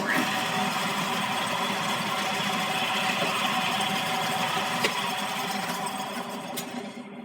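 A drill bit turns in steel on a lathe during chef knife fitting, giving a steady, close mechanical whir with faint sharp ticks, easing slightly toward the end.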